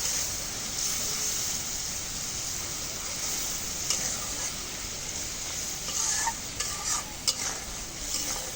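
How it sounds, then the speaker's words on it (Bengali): A spice paste of ground cumin, garlic and onion fries in a pan while being stirred, making a steady close sizzle with a few scraping and clinking strokes toward the end. "এখন মশলাটা কষানো হয়ে গেছে"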